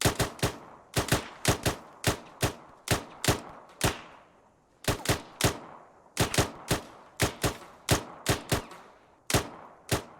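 Rapid rifle fire at a gatehouse: sharp, loud single shots in quick uneven volleys, two bursts separated by a short pause, with no talk over them.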